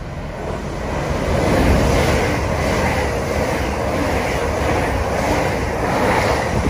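An express train rushing past on the East Coast Main Line, a loud, broad continuous roar of wheels and air with rhythmic swells, close by and steady throughout, with no talking.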